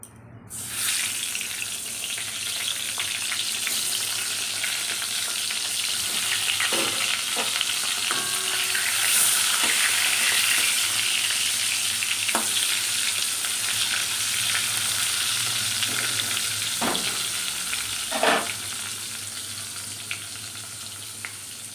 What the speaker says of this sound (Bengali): পটল ভাজা বসবে এবারে